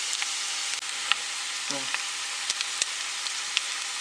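Grated potatoes for a bird's nest egg dish fry in a pan with a constant close sizzling hiss, scattered sharp crackles and a brief low voice in the middle.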